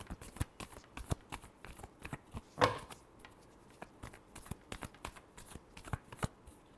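Tarot cards shuffled by hand in a series of crisp riffles and soft slaps, close and fairly quiet, with one louder burst near the middle and no talk over it.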